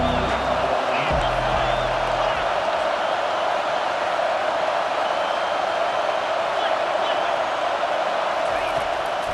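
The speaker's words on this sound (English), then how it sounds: "Big third down as the crowd gets behind this defense." A stadium crowd roars steadily in EA Sports College Football 25, a broad continuous wash of cheering behind the game commentary that continues the whole time.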